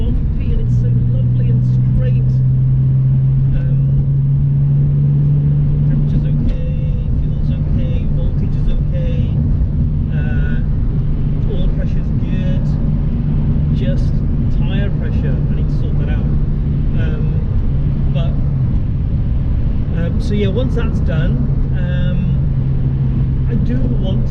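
Porsche 911 cruising along a straight but bumpy road, a steady low engine drone and road rumble heard from inside the car, with a sustained low tone and faint knocks and rattles throughout.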